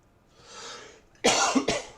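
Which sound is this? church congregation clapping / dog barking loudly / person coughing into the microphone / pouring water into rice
person coughing into the microphone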